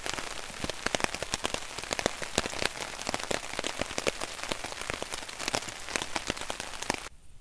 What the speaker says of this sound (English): I'm going to sleep to the rain